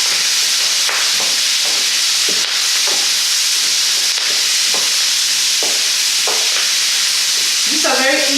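Garlic and Brussels sprouts sauté in a hot pan, a steady close sizzle and hiss broken by repeated stirring scrapes every second or so.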